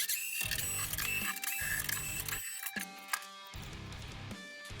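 Drum hardware clicks and rattles as a drum head is taken off and the metal lugs are handled, making several close bursts of small mechanical ticking with short pauses between them.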